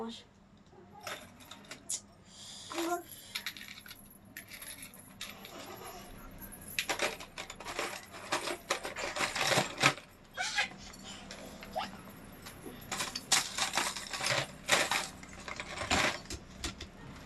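Glass or metal bangles from Kolkata clink and jingle in scattered bursts as a woman handles them, with her voice talking over much of it in a close indoor setting.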